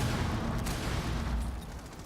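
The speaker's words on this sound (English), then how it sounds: "Lots of explosions coming through" Gunfire and explosions in Rainbow Six Siege during a collegiate esports match, a brief dense burst of shots and booms at moderate loudness, with no voices.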